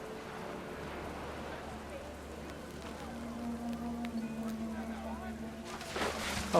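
Steady video game rain hisses and patters continuously, growing slightly louder toward the end, with a low rumble underneath, in What Remains of Edith Finch.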